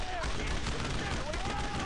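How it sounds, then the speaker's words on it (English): Heavy, continuous gunfire in the World War II shooter Brothers in Arms: Road to Hill 30, a dense, unbroken roar of shots and blasts with a voice faintly mixed in. "Heavy fire!"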